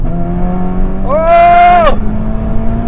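APR Stage 3 tuned VW GTI accelerates hard in second gear, engine note climbing sharply for about a second under steady cabin road noise, then cutting back, with a brief tire chirp.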